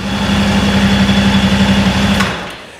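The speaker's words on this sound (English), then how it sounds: "now we're going to start the engine up and let it run for a few minutes and circulate the oil good" A Yamaha Wolverine X2 850 R-Spec side-by-side idles steadily and close by in a service shop, a constant buzzing drone that cuts off near the end and fades away.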